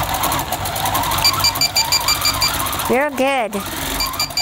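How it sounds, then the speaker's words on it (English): A quilting machine hums and rattles steadily, and its edge warning system gives a rising two-part electronic beep near the end, with a voice briefly speaking over the machine. "we're using the edge warning system. So when you hear it beep, she's going to move away."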